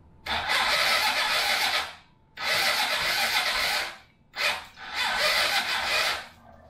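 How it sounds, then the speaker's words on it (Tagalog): A Honda XRM motorcycle fitted with a new switch is started on its electric starter three times, each a loud, close whirring crank lasting one to two seconds with brief pauses between, the last attempt preceded by a short blip. "Then, yung electric start, testing natin."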